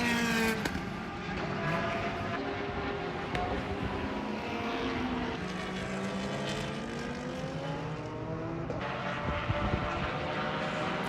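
Prototype race cars, including a Ligier JS53, roar around Homestead-Miami Speedway on the final lap of a FARA Miami 500 endurance race, a dense, continuous engine drone with pitch sweeps as cars pass.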